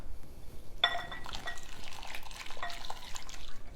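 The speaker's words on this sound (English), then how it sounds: "Just stirring that around." A spoon stirs a cup of boiling water into lemon juice and sugar for strawberry pie, giving a steady close scraping and sloshing with faint clinks against the bowl, continuous for a few seconds.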